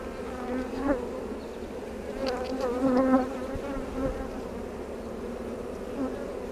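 Dense, steady buzzing of many honey bees around an open hive during an inspection, a continuous swarm hum with brief louder passes as individual bees fly near.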